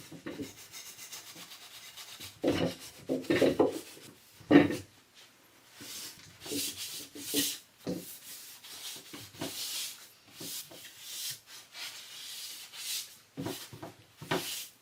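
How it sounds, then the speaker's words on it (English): The underside of a wooden Pier 1 Imports table from 2002 gets a thorough scrubbing, with close, irregular rubbing and scraping strokes and occasional knocks. "I started giving the underside a really good cleaning."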